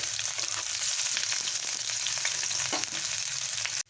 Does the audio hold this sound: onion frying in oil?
yes